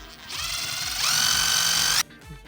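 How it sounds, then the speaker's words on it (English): A cordless power drill spins up to bore through a plastic zip tie, a whining motor that rises in pitch partway through, runs steadily for about two seconds, then cuts off abruptly. "And then we'll go ahead and take our drill."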